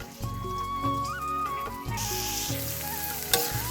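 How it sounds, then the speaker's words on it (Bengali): Onion and chili sizzling and frying in a pan for khichuri, a steady loud crackle with stirring, while music plays over it. "পেঁয়াজ মরিচ একটু ভেজে নিচ্ছি"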